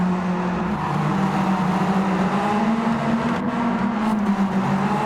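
A continuous, loud engine drone from an Autobianchi race car in the Gran Turismo 7 racing game, holding a steady buzzing pitch with a slight rise and dip, no talking over it.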